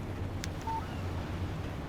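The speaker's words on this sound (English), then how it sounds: "Text message from Barry." Phone text message alert in the Alan Wake video game: a single short, clean electronic beep sounds once, alone over a quiet background hum.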